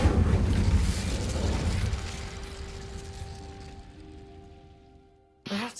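A fire spell cast in Hogwarts Legacy lets out a loud burst of roaring flame that slowly fades over a few seconds, leaving a faint tonal hum, before a sharp crackle returns at the very end.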